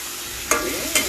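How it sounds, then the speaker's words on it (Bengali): Tomatoes frying in a pan get stirred twice, each pass a short scraping clatter over a steady, close sizzle of hot oil. "দিয়ে দিব কাটটা টমেটো। নাড়াচাড়া দিব একটু"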